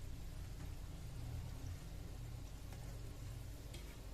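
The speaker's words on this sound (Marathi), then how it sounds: "लो गॅसवरच भाजून घ्यायचं ह्याला सतत हलवत राहायचं नाहीतर एका साईडून करपतील" Gulab jamun fry on low gas in a pan of hot oil, a faint, constant low sizzle and bubbling with occasional light taps of stirring, quiet and close, without speech.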